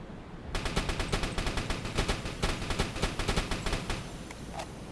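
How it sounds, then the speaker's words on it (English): A submarine deck gun in the UBOAT video game fires a rapid, evenly spaced string of loud shots that continues for several seconds. "let's get some shots away."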